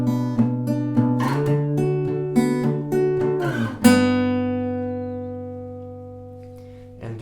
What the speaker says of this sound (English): you're simply gonna slide down from the D shape